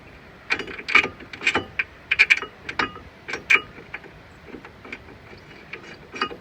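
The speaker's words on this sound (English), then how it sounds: "Now, just get a bolt in it." A bolt is threaded into the brake assembly of a Citroen C1, giving irregular small metallic clicks and ticks, close and fairly quiet, with no talking.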